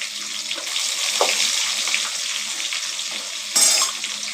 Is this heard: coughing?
no